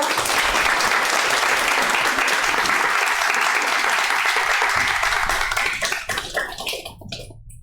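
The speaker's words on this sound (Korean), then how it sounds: "박수로 환영하겠습니다." Loud, dense applause from a church congregation welcoming a guest speaker at an anniversary Sunday worship service, sustained for several seconds before tapering off near the end.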